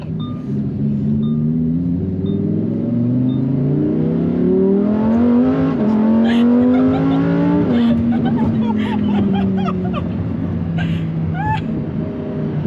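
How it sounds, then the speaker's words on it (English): Lamborghini Huracan Performante accelerating hard on a first ride, its engine note climbing through rising gear sweeps and dropping between shifts, loud and continuous from inside the car, with a voice or two faintly over it. "This is your first ride in Lamborghini"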